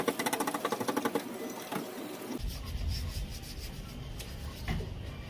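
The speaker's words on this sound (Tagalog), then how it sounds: "Tapos pag-brushin natin." A brush scrubs hard against a rusty metal surface, rough and close, following a rapid mechanical buzz in the opening seconds.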